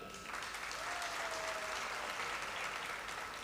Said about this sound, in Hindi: वहीद मुराद के लिए तालियां।